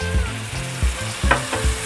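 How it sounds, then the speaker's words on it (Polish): Hot pan sizzling steadily as orange juice is poured into frying rhubarb, with a few soft stirring knocks roughly every half second, close by. "Teraz wlewamy sok pomarańczowy."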